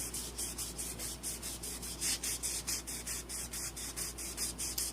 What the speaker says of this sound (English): I'm going to take some 2000 grit sandpaper. I'm going to hit our cut side with it.